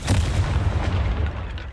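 Confringo fire spell explosion in Hogwarts Legacy, a heavy booming blast with a deep rumbling low end that carries on for a moment and slowly settles.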